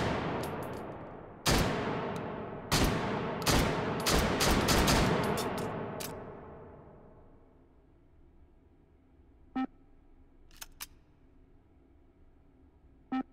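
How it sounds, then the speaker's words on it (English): Shotgun blasts in the VR game Hot Dogs, Horseshoes & Hand Grenades, a rapid run of loud booming shots over the first few seconds, each trailing into a long fading echo, followed by a few sharp metallic clicks of handling. "pretty cool shotgun"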